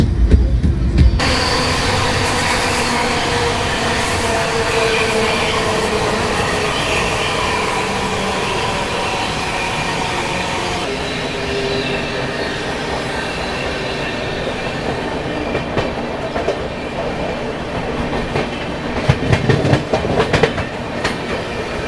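Shatabdi Express passenger train on the Delhi–Kalka route, heard from on board as a steady loud rumble with clickety-clack of wheels on rails and occasional squeal as it brakes and slows.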